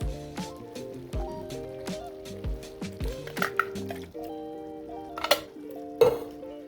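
Two 14.5-ounce cans of tomatoes tipped into a pot of stuffed pepper soup, with soft wet plops, squelches and a few metal clinks from can and pot, fairly quiet over a background of steady tones.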